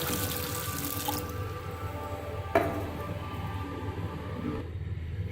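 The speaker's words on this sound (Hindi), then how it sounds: "अब मैं इसके अंदर ठंडा पानी ऐड कर रही हूँ।" Cold water poured into a pot of boiled tomatoes, a steady splashing gush from a tap that eases off partway, with a single sharp clank in the middle, close up and without talk.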